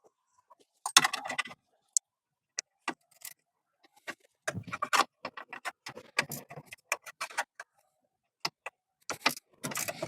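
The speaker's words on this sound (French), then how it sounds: "on va prendre une petite clé à cliquer avec du 10 et puis on va" Small ratchet wrench with a 10 mm socket loosening a bolt on a Citroen AX during radiator fitting: sparse, irregular metallic clicks and clinks, close up, in brief bursts separated by quiet gaps.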